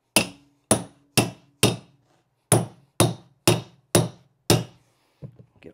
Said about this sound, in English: take our hammer and our tucker